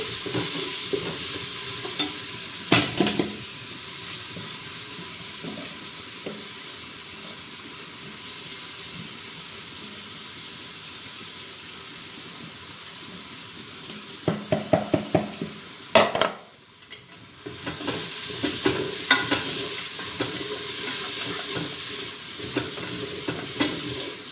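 Lentils, rice and bulgur sizzle steadily in a hot pan while a utensil stirs and scrapes, with a few louder clatters of scraping partway through.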